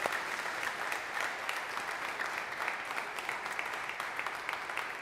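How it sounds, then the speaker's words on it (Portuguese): Sustained applause from a church congregation during a worship service, a dense, even wash of many hands clapping at steady volume for the whole stretch. "pode aplaudir mais, aplauda o Senhor"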